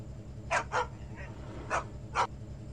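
A dog barks in the Leisure Suit Larry 7 adventure game, four short, clear yelps spaced irregularly over a steady low game hum, with no talking.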